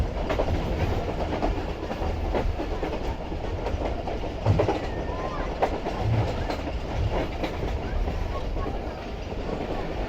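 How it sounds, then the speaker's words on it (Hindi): A Rehman Baba Express passenger train rolls into Rohri Junction station, jolting and bouncing, with a steady loud rumble and rhythmic clickety-clack of wheels over rail joints throughout. "फाइनली ट्रेन हमारी उछलती कूदती पहुँच रही है रोडी जंक्शन रेलवे स्टेशन पर।"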